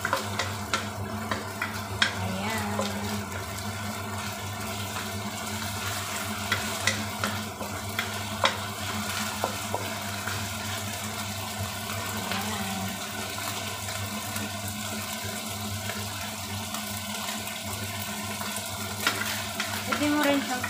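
Pork frying in a pan while being stirred, with steady close sizzling and scraping through the whole stretch, spoons clicking against the pan now and then, and a low hum underneath.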